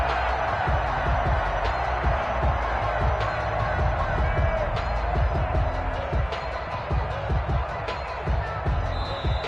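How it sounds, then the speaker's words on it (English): A stadium crowd in a PS4 American football game featuring the Seahawks roars steadily throughout, a constant wash of cheering with scattered thumps beneath a commentator's play-by-play. "And this crowd loves it as their guys hold on the opening drive."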